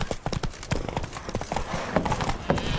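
Galloping horse hooves from The Witcher 3 video game, a steady rapid clip-clop pattern running throughout at moderate loudness, with no voices over it.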